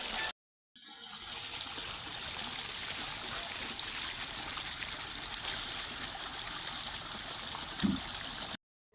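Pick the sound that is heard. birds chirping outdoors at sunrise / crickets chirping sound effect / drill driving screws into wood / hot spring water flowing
hot spring water flowing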